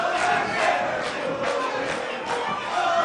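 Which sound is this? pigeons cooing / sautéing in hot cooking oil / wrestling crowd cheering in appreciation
wrestling crowd cheering in appreciation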